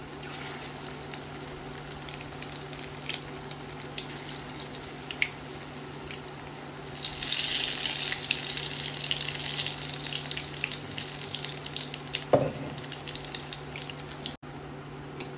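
Moong dal pakodas deep-frying in hot oil, a continuous close bubbling sizzle that swells louder midway, with a short clatter near the end.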